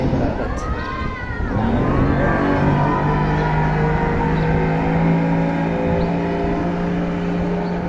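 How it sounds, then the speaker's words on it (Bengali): A speedboat engine drones loudly and steadily at close range throughout a student study-tour boat ride at Dream Holiday Park in Narsingdi. "এখন তারা এই ড্রিম হলিডে পার্কে যে বোট রাইডিং আছে"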